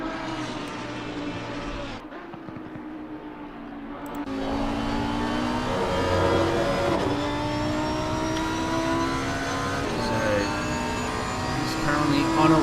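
A race car in the Pan Am Racing video game on the Kyalami circuit, its engine droning and rising in pitch as it accelerates through gears, steady and continuous with a brief dip early on.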